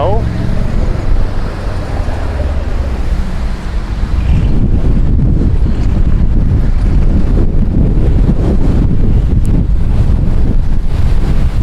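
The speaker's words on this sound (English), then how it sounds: "Oh, it's windy." Strong wind buffets the microphone in loud, roaring gusts, with a brief spoken voice near the start and a rumbling outdoor backdrop.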